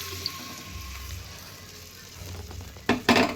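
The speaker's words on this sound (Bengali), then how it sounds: "তারপর যে প্রেশার কুকারে আমি যে ডালটা মটর ডালটা সেদ্ধ করে রেখেছিলাম সেটাও কড়াইতে দিয়ে দিলাম।" Pressure-cooked matar dal tipped into a kadai with turmeric sizzles steadily and softly, then a few sharper splashy bursts of stirring come near the end.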